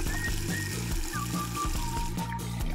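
Water pours steadily to fill a small pool in an animated cartoon, a continuous close gush and trickle with no breaks.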